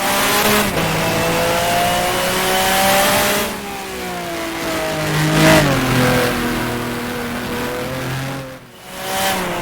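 A loud racing car engine in the rFactor video game revs and shifts through gears, pitch climbing and dropping repeatedly, with a brief dip near the end.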